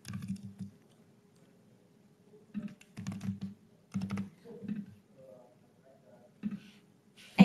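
Typing a password on a computer keyboard, several short bursts of quick key clicks separated by pauses, close and fairly quiet, with a sharper single key tap at the end.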